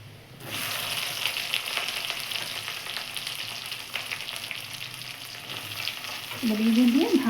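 Brinjal sizzles in a hot pan while a spatula stirs it through, a steady frying hiss with scraping strokes that grows a little louder near the end.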